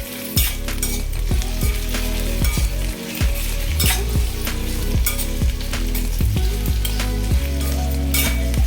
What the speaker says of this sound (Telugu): ఈ బెండకాయ ముక్కల్ని ఇలా వేపుకుంటాను